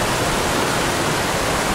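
Shallow water flowing in a stream along the Timberline Trail makes a steady, close rushing wash with no pauses or talk.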